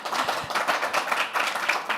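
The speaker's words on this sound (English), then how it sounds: "The applause is for you." A steady wash of applause from a sizable crowd, dense overlapping claps sustained at an even level throughout.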